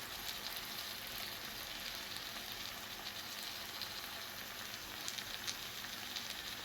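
Turmeric, chili, coriander and pepper powders sautéing in a pan for a river crab roast, giving a continuous even sizzle and hiss at moderate distance with no talk.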